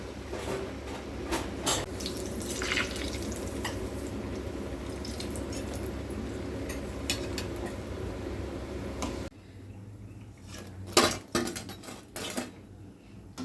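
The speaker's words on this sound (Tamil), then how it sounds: "எண்ணெய் சூடாயிடுச்சு நம்ம வடை போட்டுக்கலாம்" Vada fritters frying in hot oil for an Aadi Amavasai lunch give a steady, dense crackling sizzle for about nine seconds. It then drops away to quieter sputtering and a few sharp utensil clinks.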